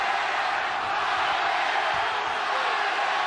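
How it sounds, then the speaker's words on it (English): A boxing arena crowd at the Barrera vs Juarez fight roars in a dense, steady wall of noise, with rival chants for the two fighters blending into continuous cheering and no clear rhythm standing out. "There's tremendous energy in the crowd for both fighters. We're hearing dueling chants."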